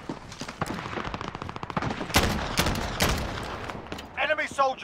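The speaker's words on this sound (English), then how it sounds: "Oh, this gun has some terrible recoil." Rapid automatic gunfire from a heavy-recoil weapon in the video game Warzone rattles in repeated bursts and sharp cracks, with a voice speaking briefly near the end.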